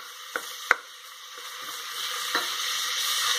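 Chicken biryani ingredients sizzle and fry in a pan while being stirred until golden brown, with a steady frying hiss and a few sharp clicks of the spoon against the pot.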